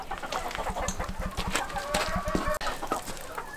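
Purebred pheasants in a coop holding ten females and two males give rapid clucking calls in a rhythmic run, close and fairly loud, with scattered chirps and squawks mixed in.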